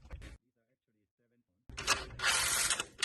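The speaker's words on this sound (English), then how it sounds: "So use a deep socket and a ratchet to tighten it down." A ratchet fitted with a deep socket tightens bolts on a replacement car exhaust, giving a burst of dense, close mechanical clicking after a short pause, with brief speech at the start.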